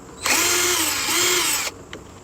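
A cordless power drill spins for about a second and a half, backing a headlight screw out of a 2015 Chevy Malibu, close and loud, with a brief pitch dip under load.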